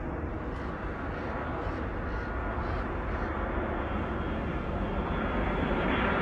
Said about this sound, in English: Y'all ever seen a plane like this?